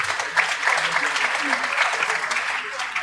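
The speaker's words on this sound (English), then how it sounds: "It deserves a round of applause." Audience at a Lagos State pension commission event breaking into applause, a continuous, even patter of many hands, fairly close and steady throughout.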